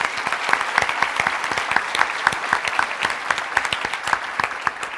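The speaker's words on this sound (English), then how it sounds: "So, round of applause to all of you." An indoor audience at the 2018 TEMPO Mentor Awards gives sustained applause, a dense, even patter of many hands clapping close by with no talk.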